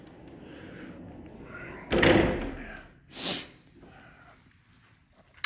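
An interior door in a house being shown is opened, giving a solid thump followed by a softer knock, with faint room noise and no talk.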